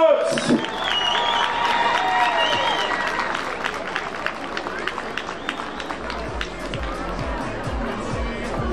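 A festival crowd applauds for a DJ at a Belgian national-day celebration, with dense, sustained clapping and scattered cheers following a loud opening moment, gradually thinning toward the end.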